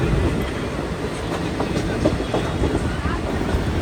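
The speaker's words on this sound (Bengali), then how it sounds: "WP4 কিন্তু আস্তে আস্তে অ্যাক্সিলারেশন নিচ্ছে, গাড়ির স্পিড কিন্তু বাড়ছে আস্তে আস্তে।" Intercity train hauled by a WP4 locomotive, slowly accelerating: steady, close rumbling with rhythmic clickety-clack of wheels over rail joints throughout.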